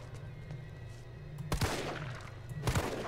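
Two sharp, close gunshots ring out in the Resident Evil 3 demo amid a zombie encounter, spaced about a second apart over a low steady game hum, with no talk.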